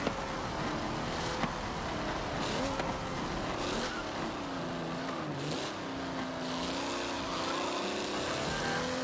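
A race car engine in Forza Motorsport 7 drones steadily throughout, its pitch rising and falling through gear changes at a constant moderate level.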